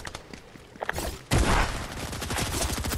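Video game gunfire: a quiet rattle of distant shots, then a loud burst of rapid automatic fire that keeps going to the end, with no talking.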